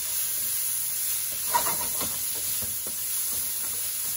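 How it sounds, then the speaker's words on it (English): Pork ribs frying in a pan for a stir fry make a steady, moderate sizzle and hiss, with a few soft stirring scrapes and one brief louder spatter partway through. "And we're just gonna fry this up real good."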